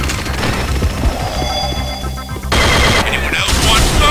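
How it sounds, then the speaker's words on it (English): Unreal Tournament pulse gun firing in a deathmatch, a steady loud stream of energy shots with bright tonal whine, growing louder and denser partway through amid busy game effects. "Pulse gun."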